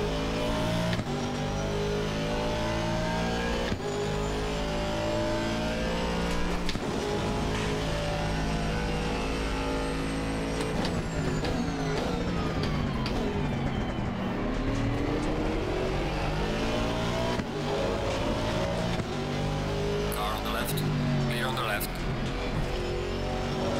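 Race cars, including Audis, in the Assetto Corsa Competizione sim racing game roar continuously at high revs, with engine pitch rising and falling through gear shifts and passes, loud and steady, with someone talking over it.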